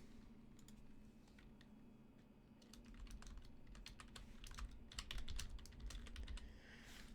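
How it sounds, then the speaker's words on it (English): Computer keyboard keys clack in quick irregular bursts, close but quiet, growing busier midway over a low background hum. "I can just type in the chat for everybody."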